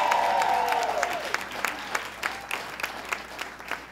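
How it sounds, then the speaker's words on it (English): An audience claps at a women's building announcement ceremony, the applause steady and fairly quiet with distinct individual claps, following the tail of a voice at the start. "Let's give her a round of applause for her great work."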